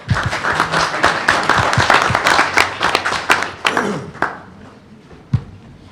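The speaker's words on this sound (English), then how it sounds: "One more round of applause." A room at a board meeting breaks into scattered applause for students, many sharp claps rising then tapering off into a few last isolated claps and thumps.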